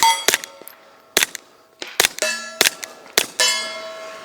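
A suppressed .22 GSG 1911 pistol fires several shots outdoors in the woods, each a sharp crack followed by loud metallic clangs and ringing pings of rounds striking steel, spaced irregularly about a second apart.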